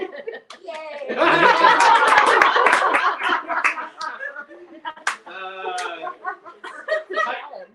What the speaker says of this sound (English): That's my wife cheering